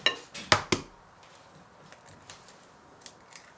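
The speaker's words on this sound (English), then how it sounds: "we're going to need to crack in the egg" An egg is cracked into a bowl while making a homemade Christmas cake: two or three sharp close taps and cracks near the start, then faint small clicks and drips trailing off in a quiet kitchen.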